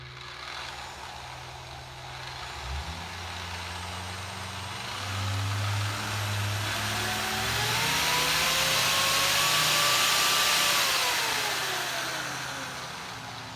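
A Bauer SCT power tool from Harbor Freight runs at speed setting 1 with a steady motor whine that gradually builds and rises in pitch, then eases back down near the end.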